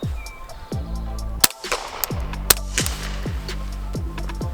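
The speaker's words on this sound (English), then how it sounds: "Let's shoot it into the dirt." A suppressed Ruger PC Charger with an AAC Tyrant suppressor fires about eight shots into dirt outdoors. The shots come as sharp, fairly close reports in an uneven series, and two of them are louder, cracking pops.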